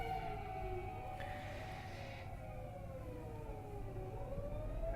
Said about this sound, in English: Oh boy, here we go. Fire engines.